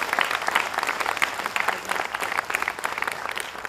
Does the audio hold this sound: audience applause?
yes